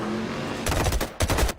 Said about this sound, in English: they walk straight into a symphony of explosions